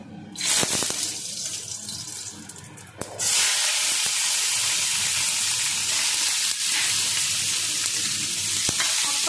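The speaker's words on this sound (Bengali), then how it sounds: "দুপাশের তেল একদম গরম হয়ে গেছে উচ্ছে আলুটা ভেজে নিই" Bitter gourd and potato go into very hot oil. A quieter stretch with a few knocks gives way to a sudden loud, sustained sizzle that continues steadily and close, with occasional clicks and no speech.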